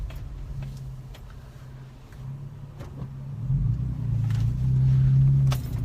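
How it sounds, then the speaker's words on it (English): A big jacked-up truck driving down McDowell Road in Jackson, Mississippi, its engine rumbling steadily and rising slightly as it accelerates, close and fairly loud with road noise. "Probably looks funny seeing a big jacked up truck riding down McDowell Road."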